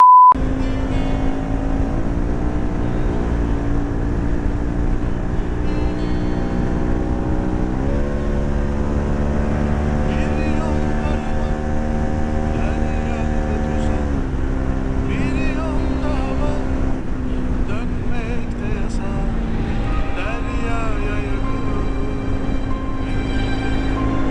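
A jeep engine's deep, steady exhaust roar drones loudly throughout, rising and shifting in pitch as it revs, with people talking over it.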